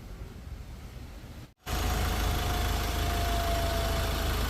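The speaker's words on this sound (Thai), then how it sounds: "เราก็ได้ทำการ สตาร์ทเครื่องยนต์ขึ้นมาแล้วนะฮะ" A Ford Ranger T6 pickup engine, freshly rebuilt, cranks after a brief pause, catches, and settles into a steady, loud idle with a low rumbling drone.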